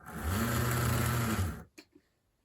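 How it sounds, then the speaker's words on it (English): Athearn HO scale Chessie U-boat model locomotive, its motor whirring steadily with one truck stuck, a buzzing mechanical drone for about a second and a half that cuts off abruptly, followed by a couple of faint clicks. "the motor's clearly spinning over, it sounds like one of the trucks is moving and the other one is completely stuck"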